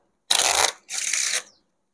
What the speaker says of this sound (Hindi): फिर मैं डेक को एक बार अच्छे से शफल कर दूंगा